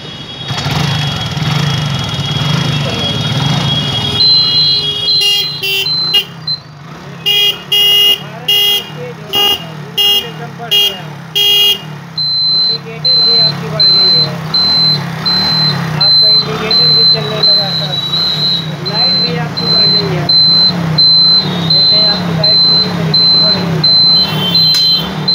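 A motorcycle horn run without a battery, wired through a cheap improvised hookup. It gives a series of loud, clipped electric beeps in quick bursts, then longer steady honks, over a running engine idle. Someone talks through it.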